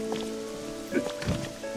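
Rain falls in the video game Pokémon Pokopia, a steady patter on surfaces under soft background music, with a few louder drops and muffled thumps.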